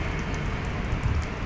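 Steady rain pours onto a balcony during a day of continuous downpour, a close, even wash of patter with no pauses and no voices.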